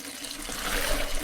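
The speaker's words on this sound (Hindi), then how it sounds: "एक खूबसूरत झरना और चारों तरफ हरियाली और पक्षियों की चहचहाहट" A waterfall surrounded by greenery gives a soft, continuous rush of falling water, fairly faint and steady with no voices.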